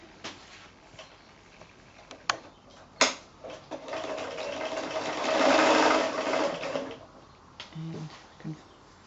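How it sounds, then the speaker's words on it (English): A sewing machine stitches the side seams of a fabric lotus bag made from fat quarters. Scattered ticks and clicks lead into a steady whirring run of a couple of seconds, followed by a few light clicks. "just sew down the side seams"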